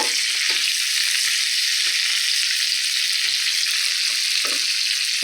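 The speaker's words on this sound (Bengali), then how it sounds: "এগুলো হালকা ভাজা হচ্ছে" Steady, bright sizzling of onion and capsicum frying in a hot pan, with faint scraping stirs now and then; no voices.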